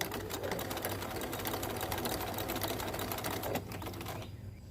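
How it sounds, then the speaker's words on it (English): A Bernina 1030 sewing machine running, a rapid steady mechanical chatter of needle strokes heard close for several seconds before it slows and stops near the end. "Now we got to see if it sews."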